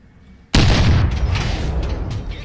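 A Hetzer (Jagdpanzer 38t) tank destroyer's gun fires in a video game, one sudden loud booming blast after brief quiet, its rumble and echo trailing off slowly.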